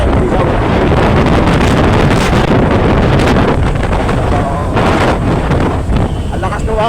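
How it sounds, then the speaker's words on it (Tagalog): Strong wind buffets the microphone continuously outdoors during a motorcycle riders' club gathering, a loud roaring rumble that swamps everything else with no break. "Ang lakas ng hangin, wala nang naririnig sa boses ko"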